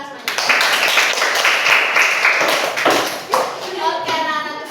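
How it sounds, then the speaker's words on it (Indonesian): A classroom of primary school pupils claps hands together in a brief burst of quick, fairly loud claps that carries on for several seconds, with voices mixed in. "Tepuk tangan semuanya"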